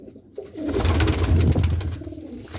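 A pet pigeon gives a close, deep, throaty coo, a rolling murmur that swells and fades over a couple of seconds.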